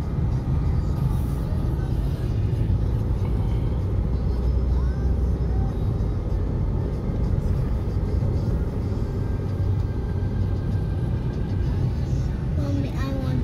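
Steady road noise fills the cabin of a car driving on a hot day, a constant low rumble and whoosh throughout, with occasional voices faint beneath it.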